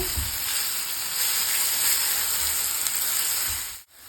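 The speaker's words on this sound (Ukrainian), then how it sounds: "Наші кабачки вже досить добре підсмажилися" Zucchini sizzle steadily in hot sunflower oil, a dense, even frying hiss that holds close and loud for several seconds before cutting off abruptly near the end.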